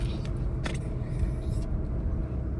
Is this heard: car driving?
yes